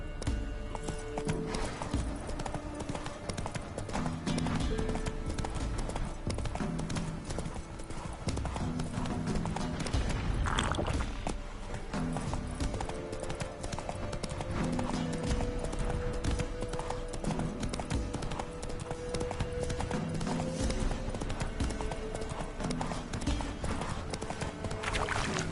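Roach, the horse in The Witcher 3, gallops with a steady, dense clip-clop of hooves running continuously and fairly close, over a constant bed of ambient game sound.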